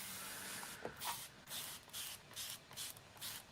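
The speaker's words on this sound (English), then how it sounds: "So I'm just going to take my spray bottle here." Spray bottle of distilled water giving a series of quick hissing spritzes, about six or seven short bursts in an uneven rhythm, close and fairly quiet, with no talking.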